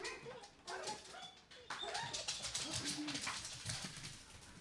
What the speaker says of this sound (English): we got some barking